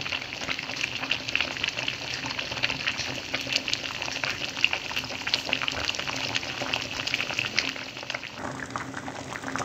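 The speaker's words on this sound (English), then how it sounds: "I need them to boil from 30 minutes to 40 minutes." Dates simmering in a pot of water for making date molasses, with a steady, continuous bubbling boil at moderate level throughout and no talking.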